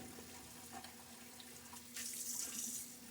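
Tap water runs into a shaving lather bowl as it is rinsed out, a steady near splash that swells louder and brighter toward the end.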